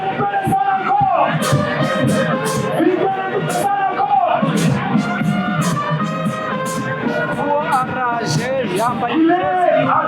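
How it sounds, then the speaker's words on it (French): A large stadium crowd in Goma roars and chants loudly at an AFC/M23 anniversary celebration, voices blending into a continuous cheering din with whoops rising above it. "Les applaudissements, s'il vous plaît."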